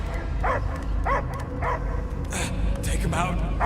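Dog barking in the video game Guardians of the Galaxy, a few short yipping barks repeating under loud game music and effects, with voices nearby.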